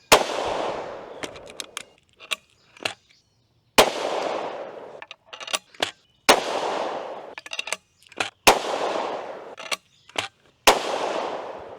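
A shotgun fitted with a 9mm adapter fires five separate rounds at a 20-yard range, each a sharp loud crack with a trailing echo, spaced a couple of seconds apart, with no speech between them.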